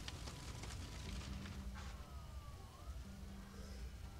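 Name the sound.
emergency vehicle sirens in the video game SimCity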